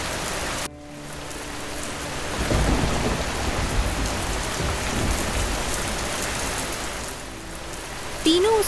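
Heavy rain pours in a dense, steady hiss, loud and close, with low rumbles of thunder rolling underneath.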